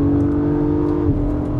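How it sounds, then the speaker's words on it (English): A 2022 Acura MDX Type S engine at full throttle, a loud steady rising growl heard from inside the SUV with a brief pitch dip near the end as it shifts. "So full throttle, oh, sounds great, and it rips."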